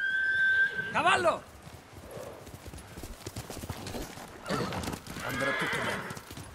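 A horse in Ghost of Tsushima gives a loud, shrill whinny at the start, followed by a run of clip-clopping hooves with softer rustling and a fainter second burst near the end, no talk over it.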